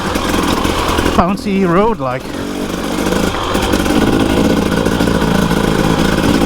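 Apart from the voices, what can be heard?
motorcycle engine on a green lane ride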